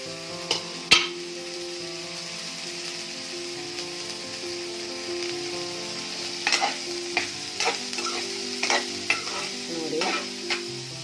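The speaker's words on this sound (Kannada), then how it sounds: "ಈರುಳ್ಳಿ ಫ್ರೈ ಮಾಡ್ತಾ ಇದ್ದೀನಿ ಈಗ ಇದಕ್ಕೆ ಹೆಚ್ಚಿಟ್ಕೊಂಡಿರೋ ಕ್ಯಾರೆಟ್ ಬೀನ್ಸ್ ಎರಡು ಹಾಕ್ತಾ ಇದ್ದೀನಿ" Chopped onion, carrots and beans fry in a pan with a steady sizzle, while sharp scraping stir strokes and clinks of a spatula come through clearly, especially in the second half.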